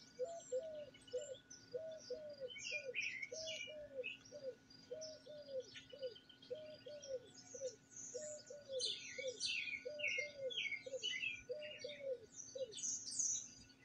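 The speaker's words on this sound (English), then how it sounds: "You heard the mourning dove right there?" A mourning dove repeats its soft, evenly spaced cooing phrases while smaller birds chirp and twitter above it in a quiet outdoor setting with no voices.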